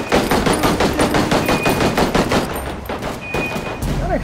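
Rapid bursts of automatic gunfire crackle loudly and continuously in Ghost Recon Ghost War, shots evenly spaced in a fast rhythm with a brief lull before another burst.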